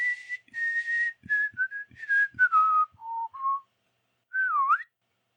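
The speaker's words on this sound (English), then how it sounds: "whistling a call and listening at each door" A man whistles a call in a deserted village: a clear sequence of short whistled notes stepping downward, a pause, then a final rising, bending whistle, with no talk.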